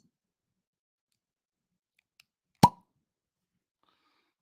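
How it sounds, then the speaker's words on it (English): A cork pops once from a newly opened bottle of 13th Colony 15th anniversary whiskey, a single sharp close plop in near silence, with one faint tick just before it. "Here goes the cork pop."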